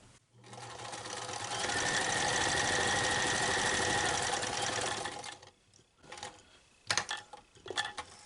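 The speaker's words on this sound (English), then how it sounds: "I'm going to sew from there to about here." A sewing machine stitches a fabric cat collar in one steady, continuous run of rapid mechanical clatter for about five seconds, followed by a few short bursts and handling clicks nearby.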